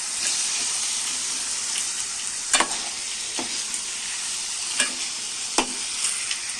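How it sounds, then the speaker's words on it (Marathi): Fish stirred into hot masala with kokum and curry leaves crackles in a steady, close sizzle, broken by several sharp spoon knocks against the pan and no talking. "कोकम आणि कढीपत्ता टाकूया, मच्छी टाकूया मसाल्यामध्ये। हे बघू शकता, हे मिक्स करून घ्यायचं आहे सर्व।"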